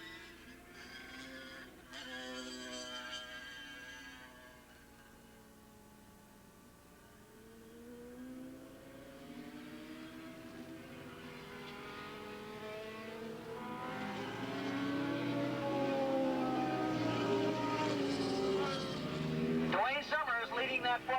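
Racing motorcycles, including a Ducati, roar into turn two at Willow Springs International Raceway during a 1987 AFM Formula One race; engine whine rises and swells steadily louder while a commentator talks over it throughout.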